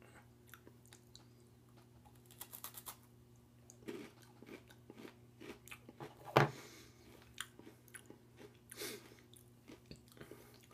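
Someone bites and chews IKEA Kakor chocolate oat cookies, with faint crunches and mouth sounds spread across the clip and one sharp, louder crunch in the middle, close to the mic.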